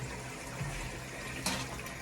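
A Geberit wall-hung toilet cistern refills with water, a steady low hiss and gurgle of inflow through the float valve, close up, with one brief louder splash.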